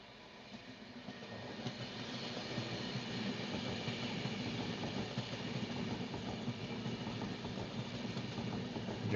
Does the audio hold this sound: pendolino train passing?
yes